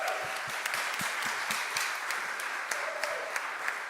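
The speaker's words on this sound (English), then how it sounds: "Can we get a round of applause for our volunteers?" A round of applause from a congregation for volunteers at a Unitarian Universalist service in Philadelphia, a full, even burst of many people clapping with a few sharper individual claps standing out, continuing steadily throughout.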